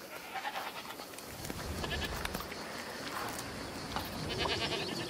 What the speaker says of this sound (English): She's one of my goats